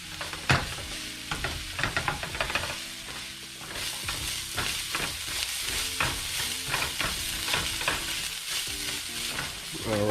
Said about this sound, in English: Just give those a quick stir.